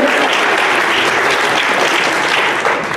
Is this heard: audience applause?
yes